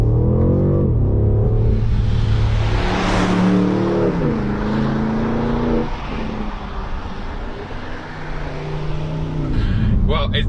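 A 530 hp BMW M550i xDrive V8 accelerates hard, its engine note rising and falling loudly through gear changes from inside the cabin, with a voice talking over the steady roar.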